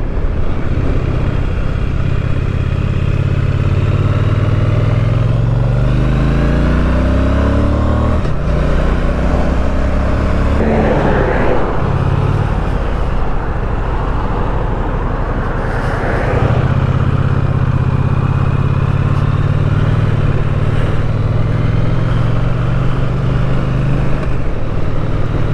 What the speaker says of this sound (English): this is a 2019 Triumph T100 Black Edition